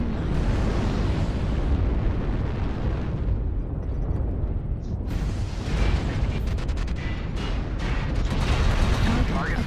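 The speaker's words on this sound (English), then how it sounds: "Artillery strike online." Dense rumbling artillery-strike explosions from the MechWarrior Online battle game fill the clip continuously, a loud, sustained barrage of blasts and bursts with sharp crackling impacts in the second half.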